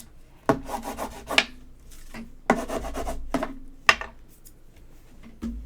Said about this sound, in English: I'm going to burnish this down really good